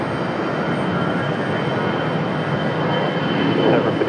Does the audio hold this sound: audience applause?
no